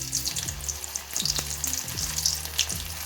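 Meal maker chunks dropped into hot oil set off a constant bubbling sizzle, close and fairly loud, with a few sharp pops and splashes as pieces go in.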